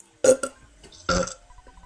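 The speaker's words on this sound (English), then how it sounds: "Oh, that was a wimpy burp." A burp sound effect from the video game Earthbound, two short, gurgling belches about a second apart, close and fairly loud against near silence.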